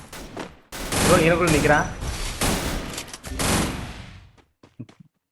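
A dense burst of rapid automatic gunfire in the Free Fire shooter game, a long loud rattle of many shots in a row, followed by a few scattered single shots as a player talks over it.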